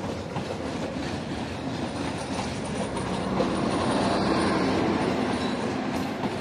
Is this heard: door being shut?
no